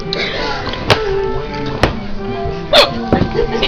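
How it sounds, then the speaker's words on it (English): Repeated hiccups from a person, three sharp abrupt gulping catches spaced about a second apart, close and loud, with talking in between. "Your hiccups feel better."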